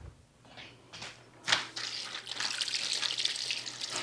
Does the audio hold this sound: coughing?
no